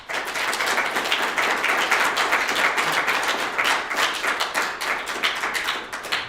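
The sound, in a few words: applause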